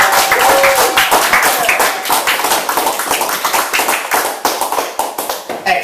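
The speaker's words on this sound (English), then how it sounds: "can we have a massive round of applause for Brief History of Timelessness" Loud, close applause from an audience welcoming a talk, with many hands clapping in a thick, uneven burst that holds strong throughout and eases slightly near the end.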